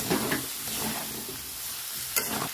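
A drumstick, potato and prawn masala cooks down with a little water in a pan, a brief close sizzle with soft scraping stirs and a sharp clink near the end, no voices.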